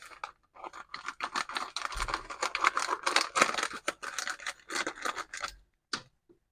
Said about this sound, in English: So just get my scissors.